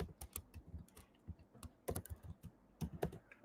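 Close typing on a computer keyboard during a JavaScript web development class, a quick irregular run of key clicks with short pauses, clear and fairly soft with no talking over it.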